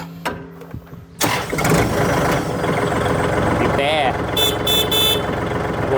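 A Kubota L4018 tractor's three-cylinder diesel cranks and catches, then settles into a loud, close, rattling idle, with brief beeps and someone talking over the engine.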